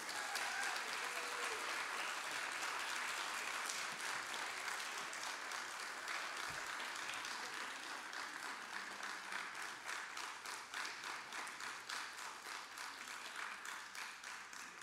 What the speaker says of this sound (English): And now you may applaud.